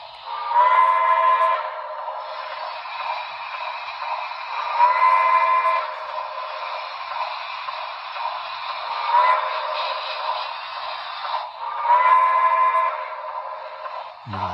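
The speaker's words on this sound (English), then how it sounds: "And then it's got a grade crossing whistle." Grade crossing whistle from a BLI 2-8-0 model steam locomotive, a chime-like tone blown in a repeating pattern of long and short blasts over a steady sustained hum, heard clearly with no talk.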